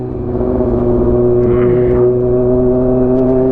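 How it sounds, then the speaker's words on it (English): A loud, steady 2022 Kawasaki ZX-6R sport motorcycle engine hums at idle with a low, even drone and no clear revving, close by and continuous throughout. "This bike is kind of loud, honestly."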